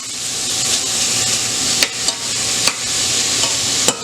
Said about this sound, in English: I'm just going to give it a quick little stir, or get lightly brown.